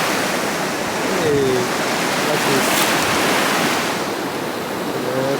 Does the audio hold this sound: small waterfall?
yes